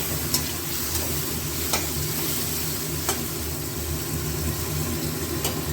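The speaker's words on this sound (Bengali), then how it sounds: "এগুলো একটু ভাজা ভাজা হোক" Ginger, green chilli, tomato and spices fry together in a pan, giving a continuous close sizzle punctuated by periodic clicks and scrapes of stirring.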